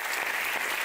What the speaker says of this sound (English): We for one round of applause to these incredible ambassadors of coexistence.